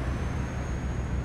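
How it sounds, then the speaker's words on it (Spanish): Loud, steady engine drone of a heavy truck hauling a 38-ton load of bottle crates on the Cajamarca–Ibagué road, continuous and close with no pauses. "Que está sonando fuerte ese motor."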